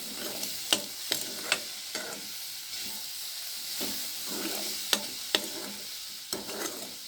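Masala for squid curry sautés in a pan, a close hissing sizzle punctuated by repeated sharp clinks and scrapes of a spoon stirring at an irregular pace.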